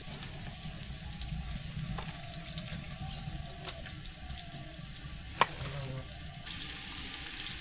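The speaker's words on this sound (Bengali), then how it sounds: "গরম মশলা, দারচিনি, এলাচ দিয়ে দিলাম তেলের মধ্যে।" Whole spices, garam masala, cinnamon and cardamom, frying in oil over an open village cooking fire, a faint, steady crackling sizzle with occasional small pops and a soft clink, no speech.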